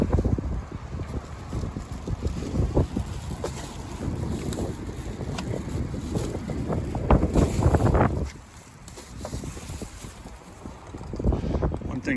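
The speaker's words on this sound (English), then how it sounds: "Getting a little windy out here." Strong wind buffets the microphone of a full-dresser motorcycle riding outdoors, a loud continuous roar with gusts that briefly drops near the end before rising again.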